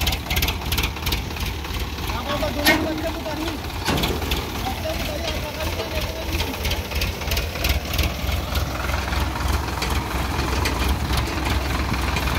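A tractor engine runs hard and steady while stuck and straining to pull, a dense continuous rumble with a faint knocking texture throughout.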